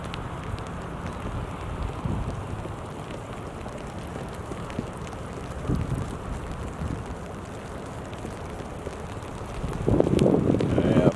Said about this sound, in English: pretty breezy too